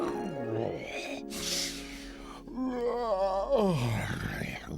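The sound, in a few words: giant snoring loudly in an animated fairy tale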